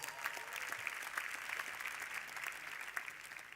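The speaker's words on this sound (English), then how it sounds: "Let's give her a round of applause." An audience at a Doha youth leadership event claps in sustained, dense applause, steady and moderately loud throughout with no voices standing out.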